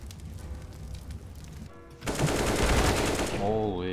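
Video game gunfire erupts after a quieter start, a loud dense burst of rapid shots lasting a couple of seconds, with a voice heard near the end.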